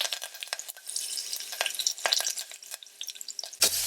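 Garlic, ginger, green chilies, cumin seeds, asafoetida, turmeric and curry leaves stir-fry in a pan for tadka dal, crackling pops and spatters under a light sizzle, ending in a sharp clatter.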